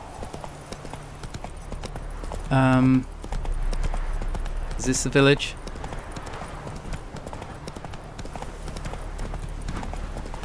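Horse hooves clip-clop steadily on open ground in The Witcher 3: Wild Hunt, a continuous moderate rhythm under game ambience, interrupted twice by short bursts of speech as someone talks while riding.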